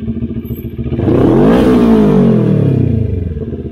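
A big-bike motorcycle engine, one of the NK400 or Rusi Classic 250, revs up nearby in a loud pulsing blast that climbs in pitch, holds, then falls back toward a throbbing idle.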